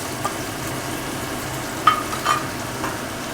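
Baby corn and vegetables stir-frying with soy, chilli and tomato sauces, a continuous close sizzle with a few short scraping stirs of the spatula partway through.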